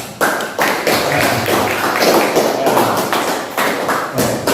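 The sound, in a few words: audience applause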